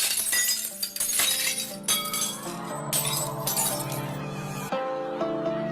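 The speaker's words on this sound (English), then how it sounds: "all the energy in the sound of the singer's voice is transferred to the glass, and it shatters." Glass shatters as a singer's voice hits its natural frequency, a loud burst of breaking followed by ringing tinkling shards and clinks that sustain and fade over several seconds.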